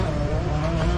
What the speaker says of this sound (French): je vais aller filmer les motos.